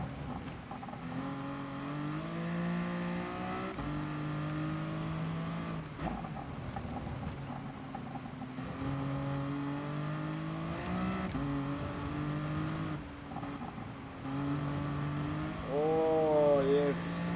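Engine of a race car in a racing video game, set at Spa, with a steady droning tone that rises and falls through gear changes and ends in a higher rev, under continuous talk.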